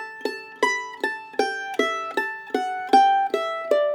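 Mandolin playing a phrase of an Irish jig in A Dorian: bright plucked notes in a lilting, evenly spaced rhythm, each attack ringing and decaying, heard close and alone without talk.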